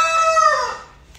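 A rooster crows in the morning, one long loud call that rises and then trails off, heard alone and close.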